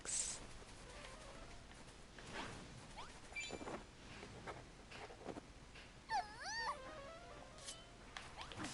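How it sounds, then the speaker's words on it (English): Berserker enemies in a video game give off dog-like whines, yelps and a wailing, wavering cry, scattered across a quiet game backdrop with a louder burst near the end. "Oh, they sound like dogs. It's the Berserker."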